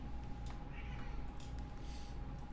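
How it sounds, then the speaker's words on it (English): A cat meows faintly in the background over a steady low hum, a few soft calls spread across the moment with no talking. "I heard a cat going. Meow"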